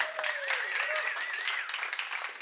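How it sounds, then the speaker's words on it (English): An audience applauds a volunteer at a magic show with a steady wash of clapping. A faint whistle-like tone rises and falls above the noise throughout. "Give Josh a round of applause"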